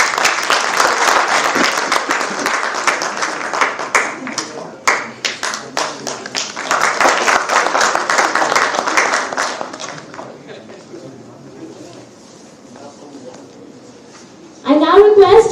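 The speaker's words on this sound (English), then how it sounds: "I request everyone to give her a huge round of applause." A conference audience at an inaugural session gives a guest speaker a loud round of applause that holds for about ten seconds, then fades to quieter murmur before a burst of noise near the end.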